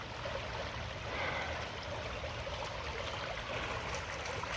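Creek water rushes steadily through a gold prospecting sluice over bedrock, a continuous broadband wash that stays even and close with no talk over it.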